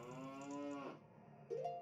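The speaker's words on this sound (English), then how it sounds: "because we have a cow." Cow in Zelda: Majora's Mask 3D gives a long, steady moo that tails off, followed by a short rising second call, clear and close with no talk over it.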